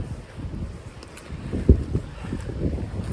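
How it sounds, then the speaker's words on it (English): Gusty wind buffets the microphone on a farm in low rumbling surges, with one sharper thump partway through and no voices. "But for some reason it's always windy"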